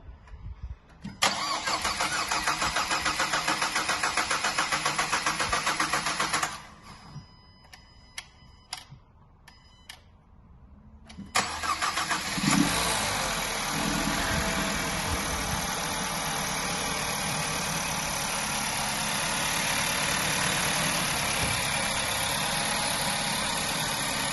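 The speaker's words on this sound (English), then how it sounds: "now we're just going to start the vehicle" A 2016 Nissan Qashqai 1.2 turbo engine cranks with a rattling whir, cuts out briefly amid a few clicks, then catches and settles into a steady, even idle.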